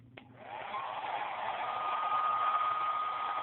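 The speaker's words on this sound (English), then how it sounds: "using the blow dryer." A hair dryer blows hot air onto a computer power supply, starting after a click and spinning up to a steady, close, loud whooshing roar with a faint whine that holds to the end.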